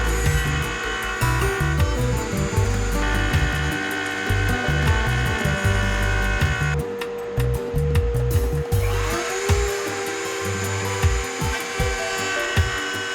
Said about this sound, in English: we are going to take it on over to the router table and we are going to clean up this joint